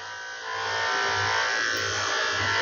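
An electric pet clipper buzzes steadily at a vet clinic as it shaves a dog's fur, a close, continuous motor whine that swells slightly after the first half-second and holds without a break.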